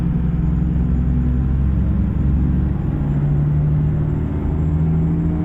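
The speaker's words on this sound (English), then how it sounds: "So we're in Key West, driving a stretched out Peterbilt." Stretched Peterbilt truck engine in American Truck Simulator, driving around Key West, a steady low droning rumble with constant hum and no speech.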